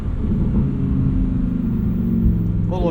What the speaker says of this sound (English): That burble at low revs,